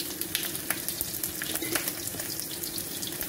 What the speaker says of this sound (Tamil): வெங்காயம் தக்காளி போடுறேன். நல்லா வதங்கி வரணும்.